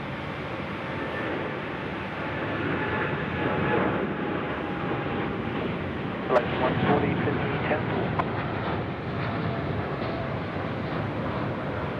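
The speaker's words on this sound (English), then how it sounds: "It's a Boeing 787 departure." A Boeing 787 takes off at night from runway 34 left at Sydney Airport, bound for Honolulu, its engines a steady broad roar with a swell in the middle.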